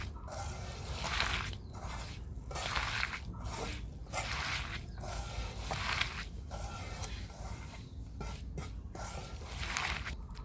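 Hands knead and mix a spice paste for a puti fish curry, making wet, squelching squishes in repeated bursts, close and moderately loud, with no talking.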